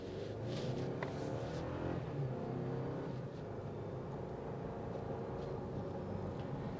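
A 2025 Toyota 4Runner Limited accelerates on a multi-lane road, its engine drone steady and moderate from inside the cabin with a slight hesitation from turbo lag, under constant road noise.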